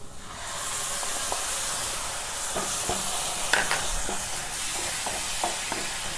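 Raw tomato puree, ground in a mixer, hits a hot pan while paneer masala is cooked, setting off a loud, steady sizzle and hiss with occasional soft stirring knocks, close up and without talk.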